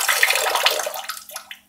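Water gushes in a close splashing stream as a heavily soaked shaving brush is squeezed, trailing off into drips and then silence.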